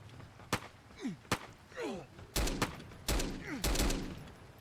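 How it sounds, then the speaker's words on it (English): In a survival video game, gunfire rings out as a series of sharp, loud shots, first spaced apart and then in quicker clustered bursts, with whizzing and ricochet-like sounds between them. "Gunfights"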